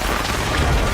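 A loud, dense roar of broadband noise fills the whole moment, like a sustained explosion blast without any break, from an explosion in Deus Ex: Mankind Divided.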